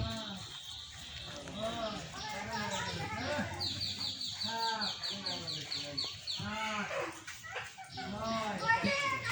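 Several dogs waiting to be fed give short whimpers and yelps close by, with a voice talking over them throughout.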